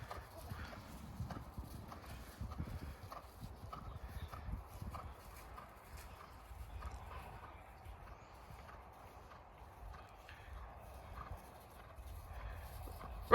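Hooves of a miniature Shetland pony clip-clop steadily in a cantering rhythm, louder and denser at the start, with a faint whinny-like note and soft background noise, no talk heard.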